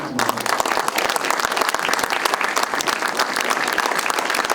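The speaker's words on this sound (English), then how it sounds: "All right, keep clapping." A post-screening audience applauds a film, a steady, dense crackle of many hands clapping at once, loud and continuous throughout with no pauses.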